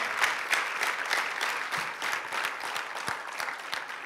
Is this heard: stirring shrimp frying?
no